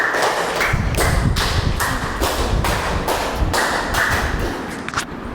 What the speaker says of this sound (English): Everybody clap for Tarun.